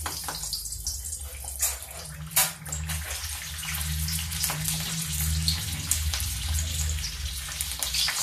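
Raw green tomatoes cooking slowly in oil over low heat in a home kitchen, a steady soft sizzle and hiss with a low hum underneath and an occasional tap or clink.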